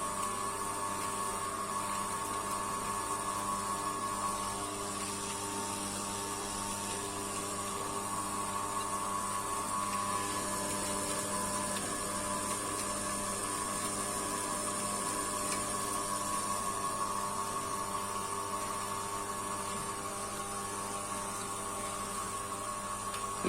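A small stainless steel oil press for aromatic oilseeds such as cloves runs steadily, giving a constant mechanical hum with a faint whine, even and unbroken throughout, with no one talking.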